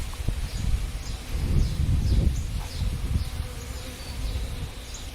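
A swarm of honey bees buzzes in a dense, steady drone, close and continuous, with faint rustling in the background.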